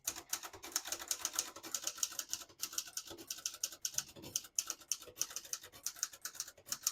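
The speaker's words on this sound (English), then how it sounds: "I'll type a sentence on the next line." Rapid typing on a 1957 Hermes Rocket portable typewriter, crisp snappy key strikes in quick irregular bursts, close and fairly quiet, with no voices.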